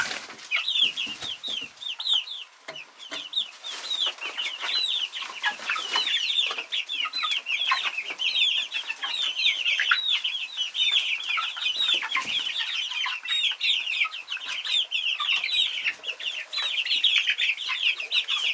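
Young chicks heading out into their run, a dense, continuous chorus of high peeping and clucking from many birds close by, steady throughout.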